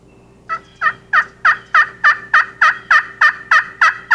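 A wild turkey gobbler gobbles loudly and close in spring woods: about twelve sharp rattling calls in a steady, evenly spaced series.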